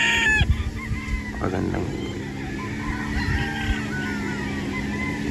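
A Gilmore straight comb rooster stag on a farm clucks and crows in short bursts, with other fowl calling in the background and someone talking over them.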